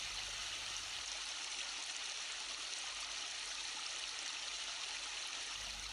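River water rushes and trickles in a constant, even stream, a dense hiss-like flow that stays steady and fairly close with no voices over it.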